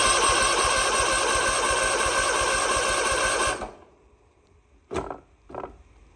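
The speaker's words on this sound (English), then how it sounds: "I'm going to tap on that solenoid a little bit" A Kawasaki FR691V small engine cranks with a steady mechanical whir that cuts off abruptly, followed by two short sharp taps on the starter solenoid in the quiet afterward.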